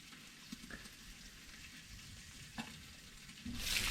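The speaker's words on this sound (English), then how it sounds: "So frying up some bacon" Bacon sizzles and crackles in a pan at a camp stove during a teardrop trailer trip, a steady quiet frying hiss with a few soft pops and scrapes, swelling louder at the end.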